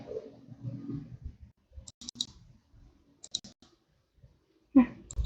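Computer keyboard keys pressed while entering a spreadsheet formula, ending with the enter key: a few scattered light taps, then one louder keystroke near the end, with faint talk at the start.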